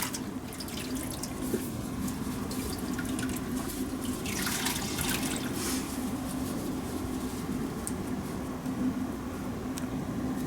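Water drips and trickles while catheter tubing is cleaned with a washcloth and clean water, an ongoing wet patter with a faint steady hum underneath and no speech.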